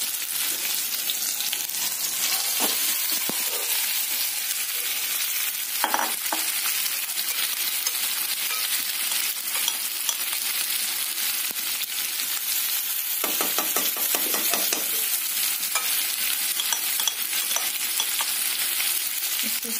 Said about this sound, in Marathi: पनीरचे तुकडे आपण तेलामध्ये असे घालून घेणार आहोत।